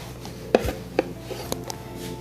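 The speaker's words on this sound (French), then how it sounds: "On va les couper en moitié." A knife cuts blanched oranges in half on a board, giving a few distinct, quiet chops and taps spaced apart.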